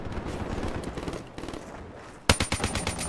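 Video game gunfire heard as a sudden sharp burst of automatic shots in the last second, loud and close, after a stretch of muffled background game noise.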